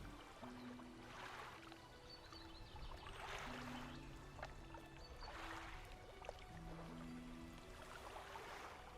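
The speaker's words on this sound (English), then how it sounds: "that water is a bit much. The constant sound of the water" Water flows constantly as ambience in the fishing video game Dredge, quiet rhythmic swells of lapping water that rise and fall in slow waves, with soft tonal music underneath.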